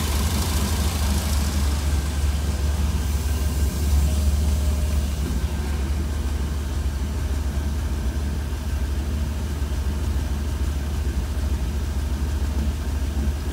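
A 1966 Cadillac 7-liter V8 fitted with Holley Sniper EFI idles steadily, a smooth, even low rumble held for the whole stretch without revving or voices.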